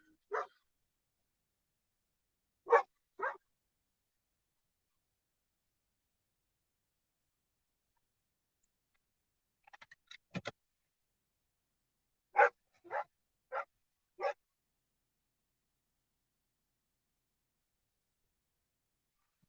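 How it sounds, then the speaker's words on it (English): Dogs bark in scattered short volleys, singly and in quick pairs, sounding distant against near silence with long quiet gaps between them. "Those dogs are noisy."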